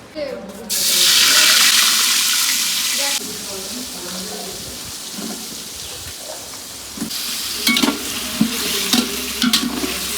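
Vegetables for khichuri cooking in a pot, with a loud, sustained sizzle and frying hiss, then quieter bubbling, stirring clatter and some water sounds, with voices speaking under it.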